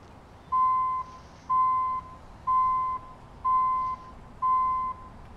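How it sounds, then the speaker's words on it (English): A truck's reversing alarm in American Truck Simulator beeps five times at an even one-per-second rhythm, clean electronic tones standing alone over faint engine hum. "That beep beep?"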